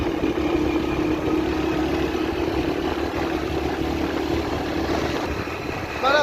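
A Honda 70 motorcycle engine hums steadily while riding a mountain road between Murree and Kashmir, a constant loud drone with wind rush and no talk over it.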